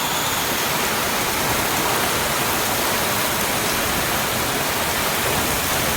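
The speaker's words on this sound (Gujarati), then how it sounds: "પવન ને વરસાદ ને પવન એટલો વરસાદ જ પડે" Heavy rain pours down amid gusting wind during a storm, a dense, steady roar that fills the scene close by and never lets up.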